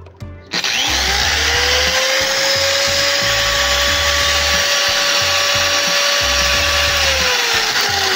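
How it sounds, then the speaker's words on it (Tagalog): A 1000-watt electric angle grinder running on a low-budget solar setup spins up abruptly into a loud, steady high whine, holds for several seconds, then begins winding down, with a low hum beneath. "So yung grinder naman, ito."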